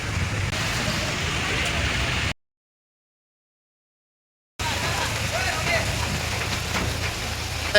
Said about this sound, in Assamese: একদম দবা পিঠা বৰষুণ আহি গ'ল